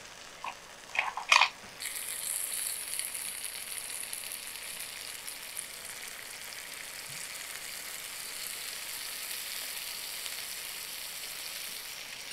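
A stuffed chicken breast fries in a pan, a close, steady crackling sizzle that runs on unbroken after a few sharp clinks at the start, with no voices.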